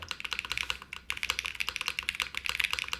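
Rapid typing on a QK80 mechanical keyboard with crisp, clicky keystrokes and a slightly bouncy spacebar in quick irregular bursts, close and fairly loud, with no voices.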